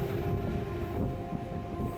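Ekota Express passenger train runs through Atrai station beside the Atrai river, heard as a steady, loud rumble of wheels on rails with a faint tonal hum, continuous and without talk.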